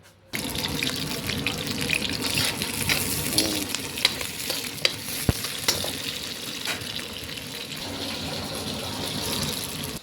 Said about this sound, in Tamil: தக்காளி வெங்காயத்தை இப்போ நம்ம வதக்கியாச்சு.